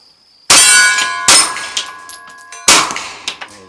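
Glock 17 MOS Gen 4 pistol rounds striking a metal target outdoors: three sharp, loud metallic clangs with ringing tails, each struck shot followed by a short decaying ring, with no talk.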